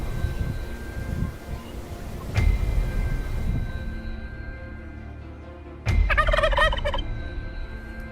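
Wild turkeys gobble loudly in a farming region: one nearby rattling gobble, then a second gobble a few seconds later, over steady background noise.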